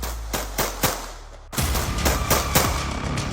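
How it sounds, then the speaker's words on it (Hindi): Rapid gunfire from a pistol and rifle, fired abroad after a car door opens: sharp shots in a quick irregular volley, a brief lull, then a denser burst of loud cracks with echo. "ताबड़तोड़ फायरिंग होती है।"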